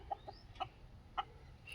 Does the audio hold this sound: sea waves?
no